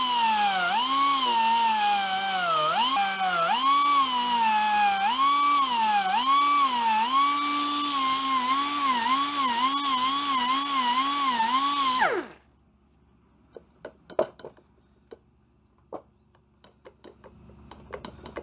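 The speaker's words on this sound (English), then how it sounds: "This is the Tom Ritchie belt sander." Belt sander grinding down a bicycle frame part in a bike builder's shop, a loud sustained whine that dips and rises in pitch as the part is pressed against the belt, then spins down, followed by faint clicks and handling noises.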